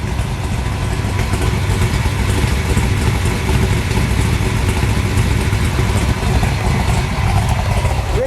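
A black 1960 Chevrolet Biscayne with a 496 cubic inch engine runs close by at a loud, steady rumbling idle that stays even throughout, with no distinct revs standing out.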